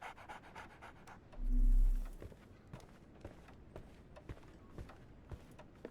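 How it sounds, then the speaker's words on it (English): A dog in the Sherlock Holmes: The Awakened PC game pants steadily and close-up in quick rhythmic breaths, with a brief deep thump partway through. "So, Barnes has a dog now."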